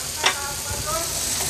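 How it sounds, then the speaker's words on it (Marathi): Dried bangda mackerel sukka stir-fried on a high flame, a brief dense sizzle with a single sharp scrape of a spatula near the start, close and steady. "पुन्हा एकदा गॅसची फ्लेम हाय करून हाय फ्लेमवर ह्याला परतून घेऊया"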